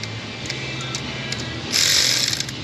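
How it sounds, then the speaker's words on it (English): An electric ratchet spinning down bolts on an LB7 Duramax engine, faint mechanical ticks and clicks giving way to a louder, steady whirring run near the end. "let's spin those down with the ratchet"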